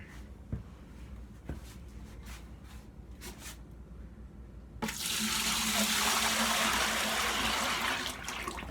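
Pottery glaze poured from a big bowl back into a bucket makes a loud, steady rush of liquid that starts abruptly midway and runs continuously to the end, after a few faint knocks and clinks.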